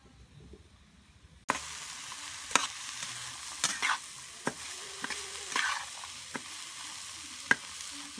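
Vegetables and eggs fry in margarine, bursting into a loud sizzle after a quiet start, with repeated scraping stirs and crackling pops close by.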